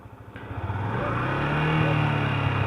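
A motorcycle engine in first gear is revved at high throttle, with pulsing firing beats climbing into a loud, sustained close-up roar.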